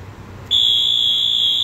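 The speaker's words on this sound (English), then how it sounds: "We have our end of cycle alarm, audible alarm, silenced" An end-of-cycle audible alarm on an atmosphere dual-chamber furnace cuts in halfway through as a loud, steady high-pitched electronic beep tone, sustained without break over a low room hum.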